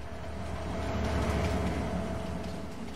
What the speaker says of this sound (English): This is the new train sound coming to Ravenport on version 3.